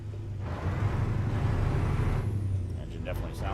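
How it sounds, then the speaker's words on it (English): A Kenworth T680 truck's Paccar M11 engine rumbles steadily at low pitch, running close by with a constant idle-like drone, while people talk over it. "Engine definitely sounds different."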